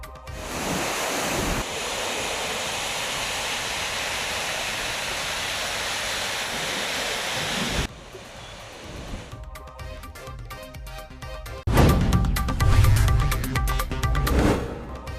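Roaring rush of water pouring through eleven sluice gates of a full dam, a steady broadband torrent that shifts and surges midway, loud and continuous with no voices.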